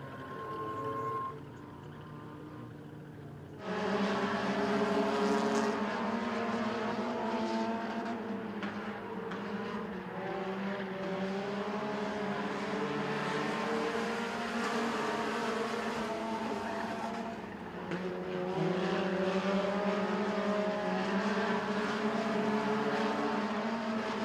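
Junior front-wheel-drive race cars race at Crossville Speedway, with loud engines droning and rising as the pack roars past in a sustained, wavering blast. It starts quieter, swells sharply after a few seconds and stays loud throughout.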